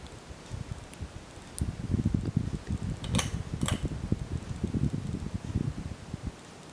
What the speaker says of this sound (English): It actually is a really quiet fan when it runs.